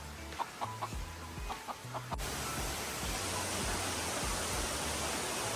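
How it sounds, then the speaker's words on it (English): Chickens cluck in short repeated bursts close by, with a rooster among them, first over quiet ground and then against a loud broadband rush of water from a nearby waterfall on O'ahu. "We've entered the lair of the chickens here."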